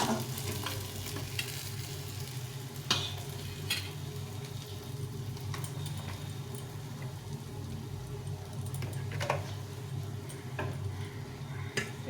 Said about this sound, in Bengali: আমি এখানে চারটে মাছ একসাথে ভেজে দিচ্ছি